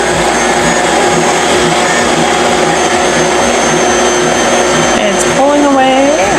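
Electric stand mixer kneading cinnamon roll dough made with Khorasan flour, a loud steady motor whine with a rhythmic thump of dough against the bowl, continuous throughout, with a voice speaking briefly over it near the end.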